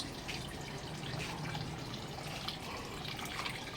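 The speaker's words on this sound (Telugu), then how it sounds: "నేను చెట్టు నీళ్ళు పడుతున్నాను." Water is poured steadily onto garden plants in the morning, a soft continuous splash and trickle at low level with no talking.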